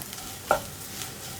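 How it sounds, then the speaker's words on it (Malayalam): Grated coconut with turmeric and chili powder fries in a pan with a quiet continuous sizzle and one brief sharp clink of a utensil against the pan, no voices. "തേങ്ങയിലേക്കും ആ മഞ്ഞൾപ്പൊടിയും മുളക് പൊടിയും ഒക്കെ ഒന്ന് പിടിച്ചു വരട്ടെ"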